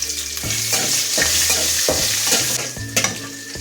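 About ten chopped small onions sauté in a pan with garlic and curry leaves, a steady close sizzle broken by repeated scraping stirs roughly every half second to second, with no talking.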